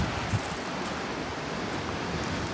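River water pouring through a dam, a broad continuous roaring rush at steady level, heard outdoors close by with no voices.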